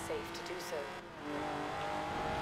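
A race car in the Forza Horizon 4 driving game revs and shifts in quick bursts, then settles into a sustained engine drone, with someone talking over it.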